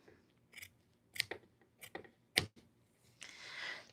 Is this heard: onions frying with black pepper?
no